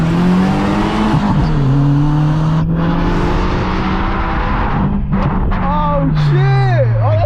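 A Volkswagen MK4 GTI 20th Anniversary Edition engine revs loudly with sustained drone and rising and falling pitch sweeps, turbo flutter and pops near the end, while people talk excitedly over it.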